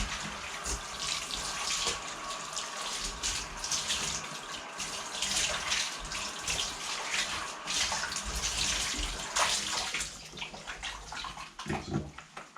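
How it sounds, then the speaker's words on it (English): Tap water runs steadily into a sink as a mousepad is rinsed under it, a soft continuous splashing wash with irregular sloshes, no talking. "Rinse this out. And we'll also rinse the mouse pad."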